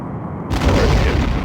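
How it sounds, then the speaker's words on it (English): A photon torpedo launches in the space combat game Star Trek: A Final Unity, a sudden loud booming blast that cuts in after a brief quiet lead-in and rumbles on steadily. "Torpedo away."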